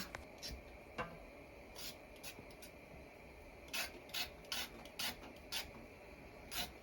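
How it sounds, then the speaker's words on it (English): A knife scrapes the skin off a carrot for Jamaican stew peas in a series of quiet, short rasping strokes, some in quick clusters, against a faint background. "So look at me stripping the carrot"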